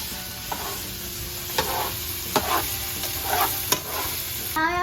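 Pork belly sautéing in a pan, sizzling steadily while a utensil scrapes and stirs in several sharp, regularly spaced strokes, close and fairly loud.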